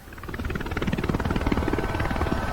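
A helicopter's rotor beats in a fast steady thump over a whining turbine drone in Microsoft Flight Simulator 2024, loud and close, the chop swelling slightly as it runs.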